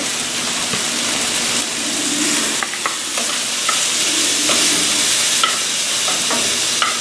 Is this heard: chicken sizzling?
yes